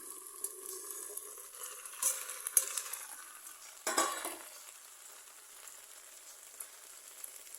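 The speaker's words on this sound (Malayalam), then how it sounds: "ഇനി നമുക്കൊന്ന് ഇളക്കി ഡ്രൈ ആക്കി എടുക്കാം" Lady's finger thoran being stirred dry in a pan, a soft sizzle with a few spatula scrapes and one sharp clatter, close but quiet, fading to a faint steady hiss.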